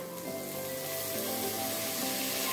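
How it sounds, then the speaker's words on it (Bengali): Carrots and oats fry in a pan with a soft, continuous sizzle, heard alone at a moderate level. "এটা আমরা একটু ভেজে নিব"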